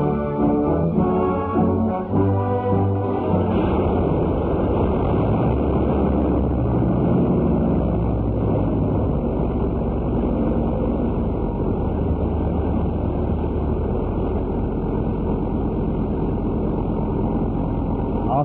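A Bristol aircraft engine hooked up to controls on a test bed for a continuous ten-hour run, giving a loud, steady roar and drone with no letup, from a 1941 Australian wartime Beaufort construction setting.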